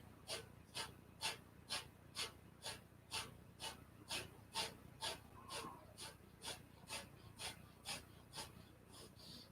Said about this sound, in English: We're going to do a Kapalabhati breath here.